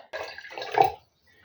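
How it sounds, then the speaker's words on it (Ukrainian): Water pours briefly into a pot for a tomato marinade, a soft splashing rush lasting under a second before it stops. "Я зараз долю води до пів літра, щоб більш-менш я могла зробити маринад на цей літраж."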